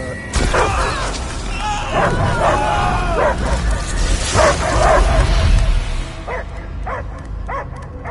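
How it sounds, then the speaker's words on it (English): A creature barks and yips repeatedly amid loud, busy Guardians of the Galaxy game noise and crashes, with voices mixed in, then a few separate barks near the end. "I hear only barking."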